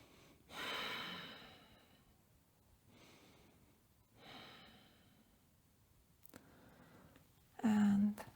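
Slow, audible breaths drawn in and let out during a held yoga pose on a mat, several soft airy inhales and exhales spaced a few seconds apart, close and quiet, ending with a louder huffing breath.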